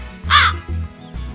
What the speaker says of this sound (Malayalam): അപ്പോഴാണ് ഒരു കാക്ക അതുവഴി വന്നത്